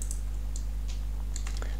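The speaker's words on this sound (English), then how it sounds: "hold Control and use the arrow keys" Control and arrow keys are tapped on a computer keyboard while navigating in Inkscape, giving a string of light, irregular clicks over a constant low electrical hum.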